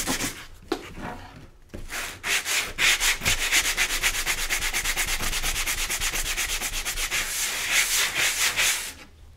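Hand sanding with sandpaper, rapid rhythmic back-and-forth rubbing strokes, close and steady for most of the stretch after a few scattered scrapes at the start.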